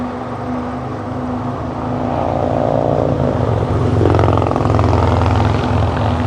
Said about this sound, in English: Noisy on the highway today, a lot of traffic.